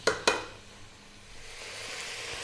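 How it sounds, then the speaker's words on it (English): Lamb browns gently in a pan, giving a soft, steady sizzle and hiss after two sharp clinks at the start, with quiet kitchen background and no speech. "So as you can probably hear, our lamb is cooking gently on the pan."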